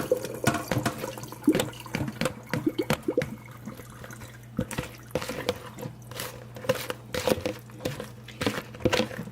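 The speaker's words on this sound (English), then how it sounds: "Now this water is very salty, so we're going to go ahead and strain it all out." Salty brine from wilted vegan kimchi pours and trickles through a strainer in a home kitchen. Close, uneven splashing and dripping water keep going for the whole stretch, with no talking.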